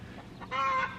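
Chickens in a backyard pen give a brief burst of squawking and clucking, fairly close and moderately loud, rising halfway through over faint background noise.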